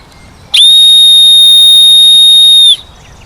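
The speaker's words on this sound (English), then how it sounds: "in these moments of conflicting airflows, a whistling sound is created" Wind whistling where airflows clash at a wild campsite in the UK: one loud, piercing, steady high-pitched tone holds for about two seconds, then cuts off, with no other sound around it.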